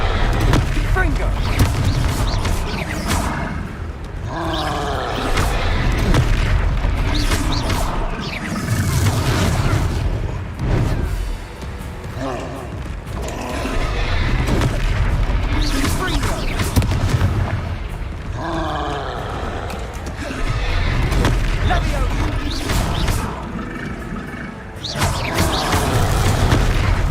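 Repeated Confringo fire-spell blasts from a Hogwarts Legacy battle, loud booming bursts landing one after another through the whole stretch, mixed with combat grunts and a voice calling out between hits.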